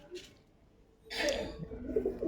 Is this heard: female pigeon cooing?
yes